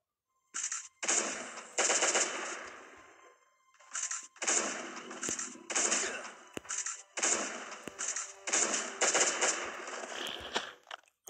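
Turret machine gun firing in the Last Day on Earth survival game, loud sustained automatic bursts in several long runs separated by short pauses, close and dominant.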